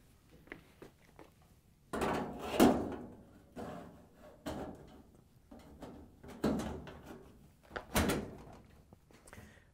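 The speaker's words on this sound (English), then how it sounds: "With the front panel secured, we can put the top on the dryer." A metal top panel is lowered and fitted onto a GE clothes dryer, giving several hollow thunks and clunks of sheet metal, with two sharper knocks standing out amid quieter handling rattles.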